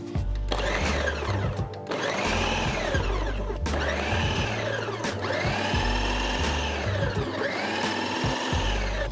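A food processor pureeing a jerk chicken marinade runs in about five loud pulsing bursts, each whirring up and cutting out in a steady rhythm.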